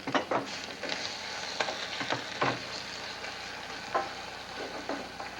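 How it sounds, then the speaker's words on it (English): Charred chili and crisped onion stirred around a pan off the heat, with repeated scraping strokes over a soft continuous sizzle, close and moderately loud, no voices. "You turn off the heat, stir that around"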